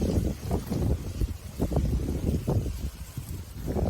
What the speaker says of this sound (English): It's pretty windy because we're going to be getting a storm.